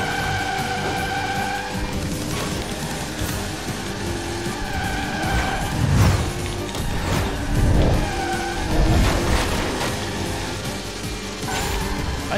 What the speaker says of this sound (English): I guess it's your engine screaming